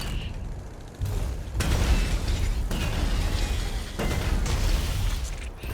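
Shotgun blasts in the video game Bounty Star come as several loud booming bursts in quick succession, with mechanical clunks between shots.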